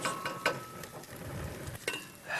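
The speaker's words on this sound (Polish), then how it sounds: "I tak razem z cebulą jeszcze półtorej mniej więcej minuty trzeba to razem smażyć, co jakiś czas lekko mieszając." Thai curry paste and onions frying in a pan while being stirred, with a steady soft sizzle and occasional scraping clicks of a utensil, fairly quiet and without talk.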